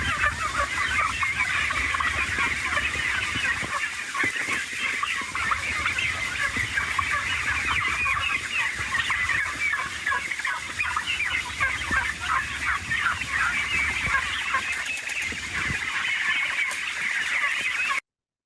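A flock of domestic fowl, turkeys among them, crowds along behind a person walking through a poultry house, filling the space with steady, dense clucking, gobbling and chattering that stays loud and close throughout with no talk.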